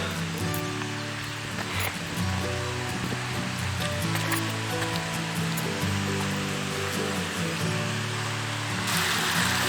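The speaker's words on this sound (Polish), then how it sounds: "zbliżamy się do strumyka" A mountain stream rushes in the Bieszczady mountains on a hike toward Tarnica, a loud, continuous broadband wash of flowing water that stays steady and close throughout.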